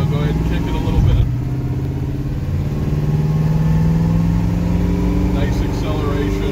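A 1937 Chevy Coupe's engine pulling smoothly as the car accelerates down the road, a steady rising drone heard from inside the cabin, loud and continuous throughout.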